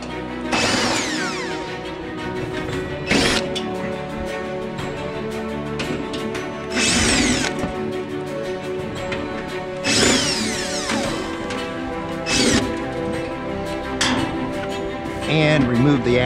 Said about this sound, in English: Next, we'll remove the bolts for the electrical access panel.